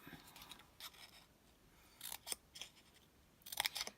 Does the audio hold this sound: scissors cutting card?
yes